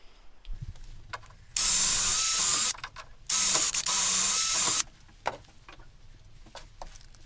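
A hand tool fastens down a wooden holding block on a saw used to cut aluminium for a hydrofoil fuselage. It makes two close, loud mechanical bursts of about a second each, separated by quiet shuffling.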